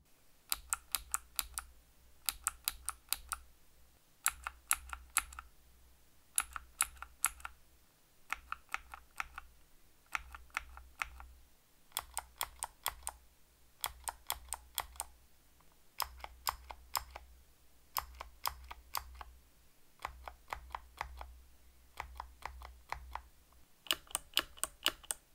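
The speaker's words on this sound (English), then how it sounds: "And now I'll do a few sample presses with these switches against some Box Jades and Kailh Sages." Box Mute Jades mechanical keyboard switches are pressed in short bursts and compared with Box Jades and Kailh Sages: crisp clicky keystrokes in rapid clusters separated by brief pauses, close and fairly quiet, with no voices.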